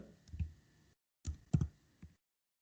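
A few separate keystrokes on a computer keyboard while entering a column name in a spreadsheet, clicking in short bursts with pauses between them, close and quiet, with no talking.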